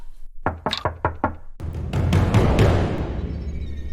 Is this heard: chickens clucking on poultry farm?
no